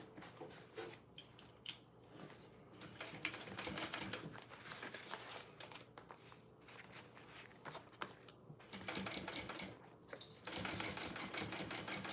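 A sewing machine top stitching through two layers of fabric on a bowler bag, running in several bursts of fast rattling stitches with short pauses between, close and fairly quiet, with no talk.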